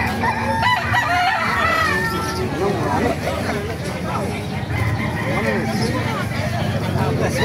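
Roosters crow and hens cluck amid a busy crowd at a chicken market in Calumpit, with several people talking close by throughout.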